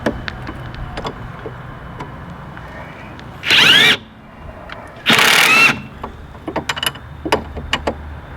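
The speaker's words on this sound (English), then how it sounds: "I'm gonna use the Ingersoll Rand on wrench tight" An Ingersoll Rand impact wrench hammers a bolt tight on the upper front control arm of an Audi front axle, firing in two short loud bursts over light workshop clinks and rattles.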